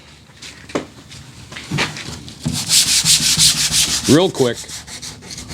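Hand sanding trim on a 2008 Ford F150 with 400-grit sandpaper, rapid rasping strokes growing louder mid-clip, close up, with a voice speaking briefly.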